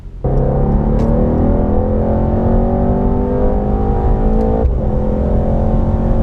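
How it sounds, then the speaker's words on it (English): A 670 hp four-wheel-drive race car accelerates hard, its engine note climbing steadily and loudly up the revs, with a quick gear change around one second and another near four and a half seconds. "the acceleration on this car is just on another level"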